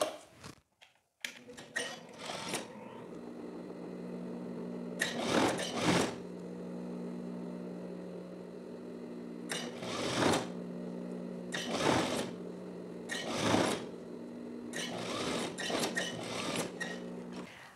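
Overlock sewing machine stitching elastic onto a jacket cuff, running in several short bursts of rapid mechanical whirring separated by quieter pauses, fairly faint and close, with no speech.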